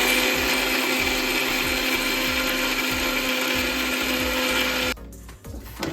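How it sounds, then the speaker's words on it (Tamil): A blender grinds boiled carrots into a fine paste for carrot kheer. The motor gives a loud, steady whirring drone with rhythmic churning pulses. It cuts off near the end, leaving quieter handling noise. "So ready for grinding."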